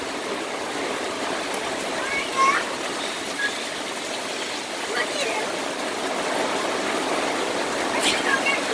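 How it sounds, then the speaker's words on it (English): Heavy August summer rain pours down in a steady, dense hiss, with a few faint voices and brief louder splashes scattered through. "It's just an old-fashioned downpour."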